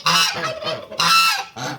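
Geese honk loudly and close by, three harsh bursts in quick succession with brief gaps between.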